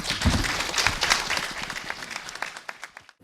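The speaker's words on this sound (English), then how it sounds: "I want to give a good round of applause to our speakers this morning" A real estate symposium audience applauds the morning speakers with a full burst of clapping that gradually thins and dies away to a few last claps.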